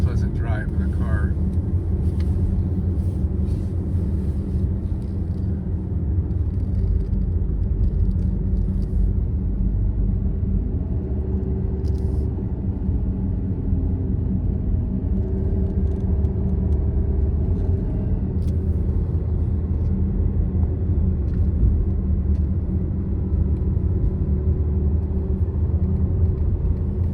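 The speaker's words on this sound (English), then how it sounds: "Actually a very easy, pleasant drive in the car." A car driving on a road to a state park campground in northern Georgia, a steady low rumble of engine and tires heard from inside the vehicle, even and continuous throughout, with no spoken words.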